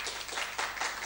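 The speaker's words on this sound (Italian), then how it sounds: "Facciamo un applauso" Brief applause from an audience at a Milan Club gathering, a quick run of close hand claps forming a soft, textured patter that swells slightly in pulses.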